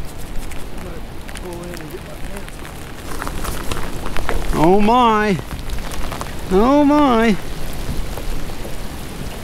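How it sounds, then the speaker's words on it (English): Rain begins falling over a lake as a storm moves in, a broad steady hiss of drops on water, while someone speaks briefly and exclaims over it. "Look, here comes the rain."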